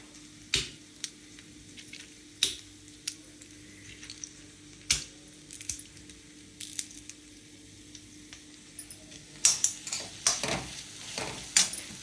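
Raw peanuts and coriander roast in a dry pan, heard as quiet rattling and scraping with sharp spatula knocks against the metal that grow busier toward the end.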